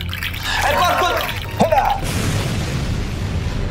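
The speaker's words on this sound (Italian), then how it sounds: "Come mai ha fatto tutta questa esplosione? Perché ha lanciato una bomba." A bomb explosion in the Dark Souls–style game Elden Ring gives a deep, loud boom with a rumbling tail, a second sharper burst following about a second later.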